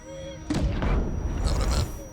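A grenade launcher fires once in Death Stranding 2, a loud close boom with a rough, noisy tail lasting over a second, with no other sound around it.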